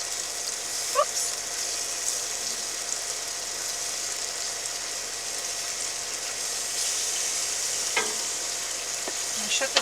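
Meat brushed with barbecue sauce on a grill, sizzling in a loud, steady hiss throughout, with a few faint clicks from tongs.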